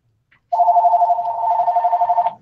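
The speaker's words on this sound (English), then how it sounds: "Holy shit, my phone's ringing." Phone ringing with a loud, close electronic warble, a single continuous trilling ring lasting nearly two seconds with no speech over it.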